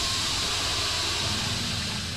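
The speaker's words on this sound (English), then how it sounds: "Nice steam." Steam hissing inside a dark corridor in the horror video game Outlast: a steady, broadband hiss with a low rumble beneath, continuous and moderately loud, without speech.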